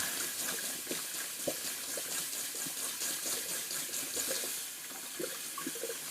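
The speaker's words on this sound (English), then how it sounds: "Just rinsing out my brush real quick." Running tap water splashes steadily into a sink, with soft irregular sloshes as a shaving brush is rinsed under the stream.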